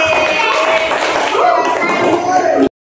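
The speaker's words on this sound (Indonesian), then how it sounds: "Tepuk tangan untuk Bapak Teh." A class of schoolchildren claps for a pupil as a loud, dense burst of hand-clapping mixed with children's voices that stops abruptly after a few seconds.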